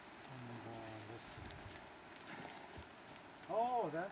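Horse hooves clip-clop at a walk, fairly faint, with a voice talking over them.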